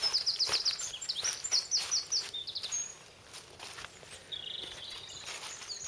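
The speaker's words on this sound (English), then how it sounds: "Listen to this bird song." A small bird's quick, high chirping trills, repeated in bursts then a brief warble, fairly faint outdoors with no one speaking.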